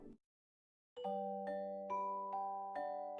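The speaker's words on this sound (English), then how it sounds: "Suddenly the doorbell rang." A doorbell chimes a ringing melody of several sustained tones, each note stepping in after a short pause, following a brief murmur at the start.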